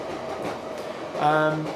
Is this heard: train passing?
yes